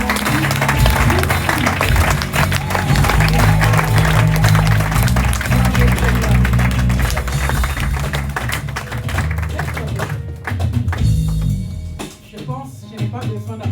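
Sustained applause from a large crowd at a youth conference, with cheering, layered over loud music and voices, easing off toward the end.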